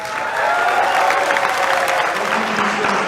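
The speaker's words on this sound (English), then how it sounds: "Musk gets applause because" An audience claps for a speech, a continuous wash of many hands that stays loud and even throughout with no voices on top.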